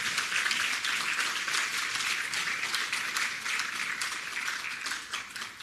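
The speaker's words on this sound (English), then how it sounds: "Please give them a round of applause." Sustained applause from an audience at a scholarship awards ceremony honoring educators, steady broadband clapping throughout with no speech over it.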